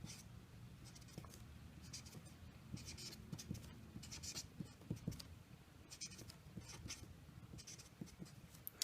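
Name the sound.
writing out the power rule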